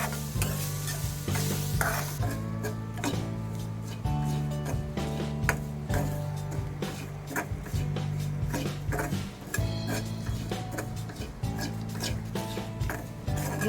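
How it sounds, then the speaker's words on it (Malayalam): Grated coconut dry-roasting in a pan with no oil while a spoon stirs it in steady scraping strokes, soft sizzle underneath, close and continuous, with a low musical tone humming throughout. "ഇത് വറുക്കുക. ഇതിൽ എണ്ണയൊന്നും ഞാൻ ചേർക്കുന്നില്ല, അല്ലാതെ തന്നെ നല്ല മൂപ്പിച്ചെടുക്കുകയാണ്."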